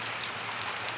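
Rain falling on a house roof during a storm, a dense, continuous patter of drops with steady loudness and nothing else heard.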